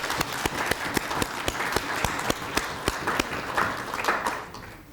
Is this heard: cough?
no